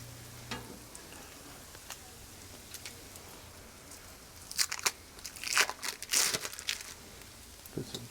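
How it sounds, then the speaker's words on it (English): Bacon sizzles faintly on a Blackstone griddle, a quiet crackling hiss that grows busier toward the end with a few sharper pops and scrapes. "Add some bacon in there."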